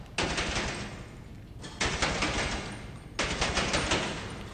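Bursts of rapid automatic gunfire at the bunker shooting range in GTA Online, three loud sustained volleys of assault rifle or SMG fire separated by brief pauses.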